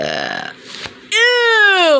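Yoshi lets out a long, loud burp in a video game, a smooth rising-and-falling belch lasting about a second after some brief game noise and a short exclamation.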